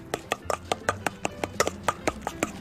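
A spoon cuts and mashes avocado in a bowl for guacamole, making a regular series of quick, close taps and knocks, about four per second, at moderate volume.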